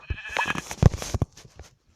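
A Minecraft sheep bleats once amid brief clicks and thumps, the short cry standing out clearly before things go quiet.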